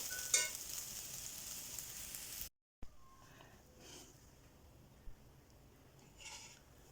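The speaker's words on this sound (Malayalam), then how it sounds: "ഇതെല്ലാം വെന്ത സാധനങ്ങളായതുകൊണ്ട് ഇത്രയും നേരം ഇളക്കിയത് മതി" Cooked chicken cutlet filling stirred in a pan, a soft steady sizzle with a few scraping strokes of a spoon, close but faint, with a short break partway through.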